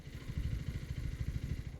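A Harley-Davidson motorcycle rumbles on a ride through Bandipur forest on the way from Mysore to Ooty, a low, throbbing pulse from the engine under steady wind noise, close and continuous.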